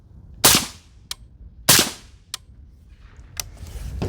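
Suppressed PRI MK12 .308 rifle firing outdoors, two loud muffled reports about a second apart, each followed by a sharp metallic ping from a distant target, with another ping and faint rustling near the end.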